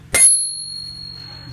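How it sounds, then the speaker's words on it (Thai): A single bright ring from a bicycle bell on a Giant Escape hybrid bike, a sharp strike near the start whose tone sustains and fades over the following second, with faint low background rumble. "กระดิ่งน่ารักเชียว"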